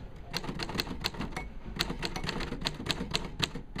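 Keys of a vintage Smith Corona Silent typewriter clatter in quick, fairly even strokes, a steady run of close, crisp clicks and thumps with no voice over them.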